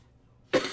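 A single sharp cough bursts out after near silence, close and clear.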